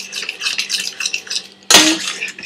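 A spoon scrapes and clinks around a bowl while a spice mixture for oil-free Mughlai seekh kebab is stirred, close and fairly loud, followed by a sharper clatter near the end.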